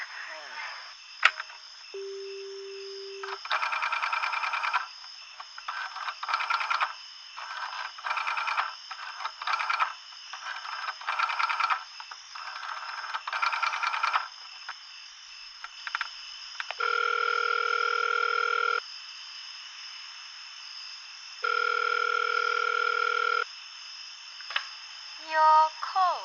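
A vintage telephone line gives a steady dial tone broken by bursts of buzzing ring tones and clicks, alternating in uneven stretches, fairly close and unaccompanied.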